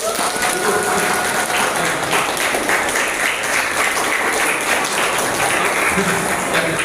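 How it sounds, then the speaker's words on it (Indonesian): Junior high students applauding at an indoor safety training session, a loud, continuous wash of clapping from many hands that holds steady throughout, with no voices over it. "Tepuk tangannya dong adik-adik."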